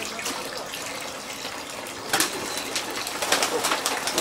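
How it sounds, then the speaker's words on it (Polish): Water runs and splashes as it is poured into a drinker in a pigeon loft, a steady watery hiss over several seconds, with pigeons cooing nearby and soft scuffling in the background. "O, tutaj Maciek wody teraz im doleje, bo te gołębie, które w podróży były, one są na pewno spragnione."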